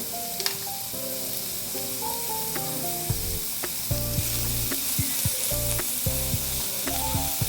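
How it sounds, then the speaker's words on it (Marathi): Onion frying in a little oil for a broccoli bhaji, a close, steady sizzle broken by repeated spatula scrapes and clinks against the pan, with no voices. "त्यामध्ये कांदा थोडासा मऊसर पडेपर्यंत भाजून घ्यायचा"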